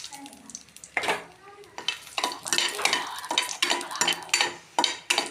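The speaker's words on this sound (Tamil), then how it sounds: "அதுக்கப்புறம் என்னென்னா நமக்கு தேவையான அளவு எண்ணெய் கொஞ்சம் ஊற்றிட்டு, அதுக்கப்புறம் நமக்கு தேவையான அளவுக்கு வத்தல்" Dried red chillies frying in oil in a pan, a close sizzle broken by repeated scrapes and clinks of a spoon stirring against the metal pan.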